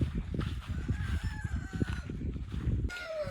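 Several roosters crow in a backyard coop area, drawn-out cock-a-doodle-doo calls overlapping at mid distance, with a busy low background of clucking and movement from the flock.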